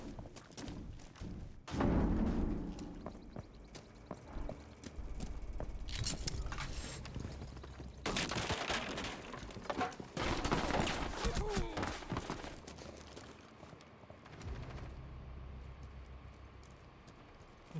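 Rapid gunfire bursts and heavy thuds from a Rainbow Six Siege match, loud and close, with several clustered volleys and footstep-like clatter between them, partly under a talking voice.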